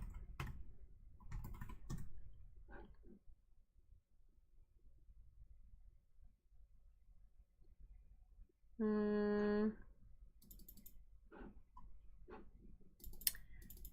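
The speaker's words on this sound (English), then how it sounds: "but if I type in brand identity" Keyboard typing on a computer while entering a search for brand identity during a design session: short clusters of soft clicks near the start and end, broken by a brief loud tonal beep in the middle, with faint background noise.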